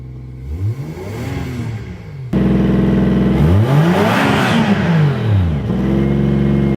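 A turbocharged Toyota 1JZ engine in a Lexus GS300 revs up and down repeatedly, rising and falling in pitch, loud and close, with a sharp jump in volume partway through.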